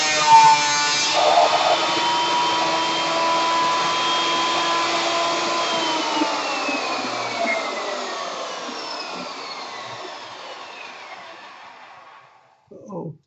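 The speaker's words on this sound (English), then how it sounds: "I'm going to go ahead and pass it through without the dust collection, and then it's going to be real noisy" A woodworking machine cuts a board without dust collection, giving a loud, steady broadband roar close by that slowly fades and winds down near the end.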